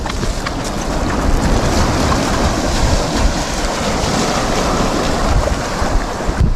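Waves wash and churn steadily close by, a continuous rushing surf mixed with wind blowing across the microphone, with no voices.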